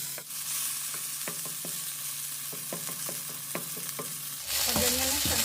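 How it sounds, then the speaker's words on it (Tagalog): Half a head of garlic sautéing in butter, a steady sizzle with sharp spatula scrapes and taps against the pan, then a louder burst of frying near the end. "At mag-isa tayo ng bawang."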